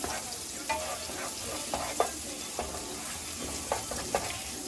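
Oil with red crushed pepper flakes frying in a pan for shrimp pasta: a steady soft sizzle with repeated light scraping taps as the pan is stirred, close and quiet.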